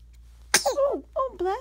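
A baby gives a sudden, sharp sneeze at close range, followed by soft vocal sounds from the little one.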